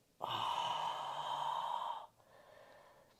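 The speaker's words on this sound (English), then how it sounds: "Breathing in and breathing out." A long, audible exhale of breath during a calm yoga session, close and breathy for about two seconds, followed by a softer, quieter breath.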